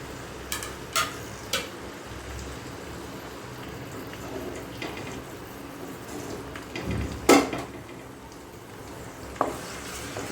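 Ginger, garlic and green chili sizzle steadily in hot oil, with a few sharp stirring clatters and spatters rising over the continuous frying hiss.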